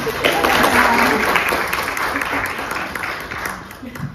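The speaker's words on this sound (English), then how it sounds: "everyone give him a round of applause" An audience at a 21st Century Leaders celebration gives a round of applause, a loud, dense clapping swell that peaks early and gradually thins out, with a voice speaking over it.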